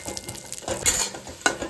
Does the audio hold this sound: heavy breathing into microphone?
no